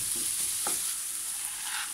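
Minced beef frying in a pan, a steady close sizzle with a couple of brief stirring scrapes.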